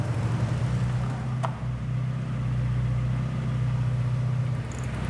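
A Porsche 944 engine idles steadily while its idle speed is adjusted at the throttle body, a close, even low hum and rumble that holds constant throughout, with a faint tick partway through.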